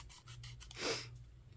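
A quiet, brief snip of scissors or a blade trimming a paper postage stamp, a few soft rubbing strokes ending in one slightly louder rasp, close and alone.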